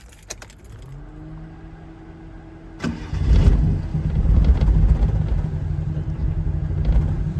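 A Suzuki Cappuccino cranks with a brief starter whir and catches with a loud burst, then runs at a rough, low, uneven idle nearby. The idle is so low the engine is about to stall.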